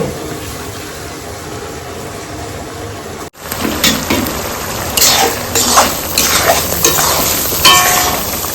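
Spice paste poured into a hot kadai fries with a steady sizzle, breaks off briefly, then returns as louder, busier frying with scraping stir strokes, close by and with no talk.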